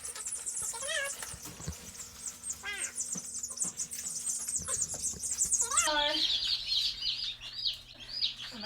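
Newly hatched chicks in an incubator give high, rapid peeping calls in repeated bursts, with fan hum in the background and a person talking over them.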